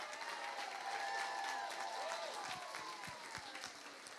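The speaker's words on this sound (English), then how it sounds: "give them another round of applause" A church crowd at a vacation Bible school closing service applauds the pre-K children, dense continuous clapping with cheering and a few whoops layered on top.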